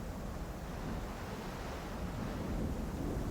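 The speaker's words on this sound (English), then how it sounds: "The sea is parting all the way across. Walls of water on either side." Sea water roars in a steady, broad surging wash for a dramatized parting of the sea, constant and enveloping like heavy surf and wind, with no voices.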